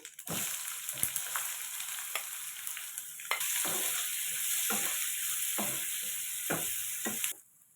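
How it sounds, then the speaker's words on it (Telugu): Chopped onions sizzle steadily in hot oil in a pan for grated green mango chutney, with scattered stirring scrapes over a continuous frying hiss that cuts off near the end. "చూడండి మంచిగా ఫ్రై అయినాయి కదా ఇప్పుడు మనం ఆనియన్స్ వేసుకున్నాం"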